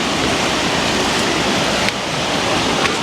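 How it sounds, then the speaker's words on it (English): Heavy rain pours down during a storm, a dense, steady roar of water that stays loud and even throughout, with one or two brief louder splashes. "The rain is coming down now."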